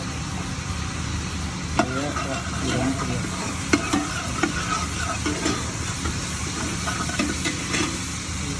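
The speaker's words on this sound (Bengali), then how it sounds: "আদা রসুনটা আদা রসুনটা বাদামি কালার হইতে দিব।" Ginger and garlic fry in hot oil toward brown, giving a steady close sizzle with scattered utensil scrapes and clicks, and a voice is heard faintly.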